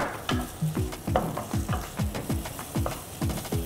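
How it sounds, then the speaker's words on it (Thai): Curry paste dry-fried in a little oil, with rhythmic scraping stirs of a utensil against the pan repeating about every third of a second over a soft sizzle, no talk. "เราก็จะมาคั่วตัวพริกแกงกันก็น้ำมันนะครับลงไปนิดนึงอันนี้เราก็ใส่พริกแกงของเรา"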